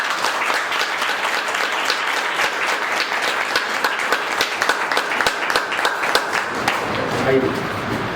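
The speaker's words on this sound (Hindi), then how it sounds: "एक जबरदस्त ताली है" Sustained, vigorous applause from a meeting audience, dense clapping holding steady before thinning toward the end, with some voices beneath.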